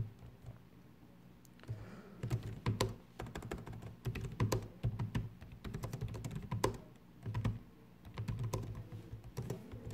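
Someone types C++ code on a computer keyboard, soft, close key clicks arriving in quick irregular bursts with short pauses between them.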